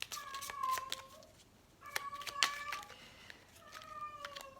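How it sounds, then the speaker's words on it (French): A female cat in heat meowing insistently indoors, three drawn-out, wavering yowls with pauses between them, fairly close and moderately loud. "c'est les chaleurs de mon chat en fait, elle a déclenché ces chaleurs"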